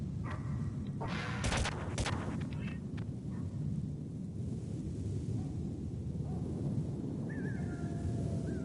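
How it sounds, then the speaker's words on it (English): Nikita missile fired in the game Metal Gear Solid, a dense rumbling roar with crackling blasts early on, then a sustained low whooshing drone and a brief electronic chirp near the end. "One more Nikita missile."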